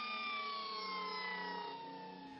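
An emergency vehicle siren sounds in a steady, sustained wail with layered harmonic tones, slowly falling slightly in pitch and fading a little toward the end, fairly loud and alone.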